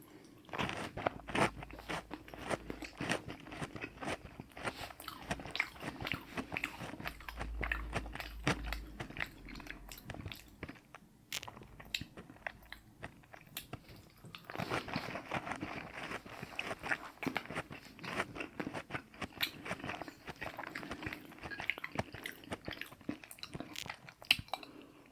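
Crunchy chewing and biting of homemade chocolate chip cookies, some with peanut butter, close to the mic, with repeated soft crunches and mouth sounds throughout, fairly quiet and steady with a brief lull midway.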